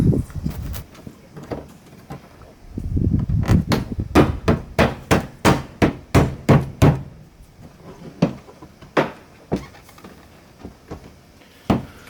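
A Toyota Prius rear bumper is pressed back into place during a DIY gap repair, giving a run of sharp plastic knocks and thumps, irregular at first and then a quick steady series, close by with no talking.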